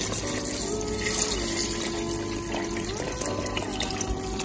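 Water pours steadily into a pot of gungo peas and meat for a Jamaican-style soup, a continuous gushing splash with a shifting pitch as the pot fills, no voices.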